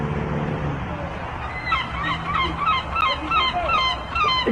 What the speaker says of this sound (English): A giant seagull.